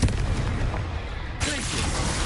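Bombarda and Confringo spell explosions in Hogwarts Legacy, two booming blasts about a second and a half apart, with a deep rumbling tail under the first and a crackling second burst.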